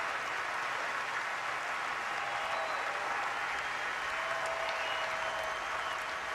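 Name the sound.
stadium fans applauding injured player carted off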